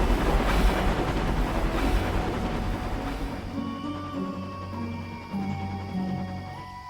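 A train rumbles along in the railway game Nowhere Railways, a loud rolling roar that fades into a quieter steady hum with faint tonal whines, no talking.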